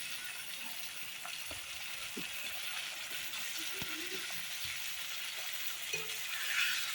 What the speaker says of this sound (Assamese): মাটিমাহখিনি দিয়াৰ পিছত ভাল ধৰণে লৰাই ল'ব